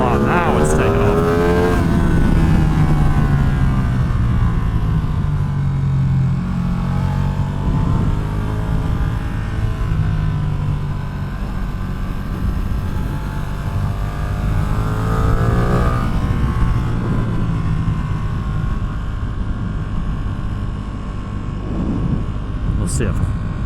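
A Ducati motorcycle engine pulls hard through rising and falling revs on an open road ride, with a loud, continuous roar and wind rush throughout.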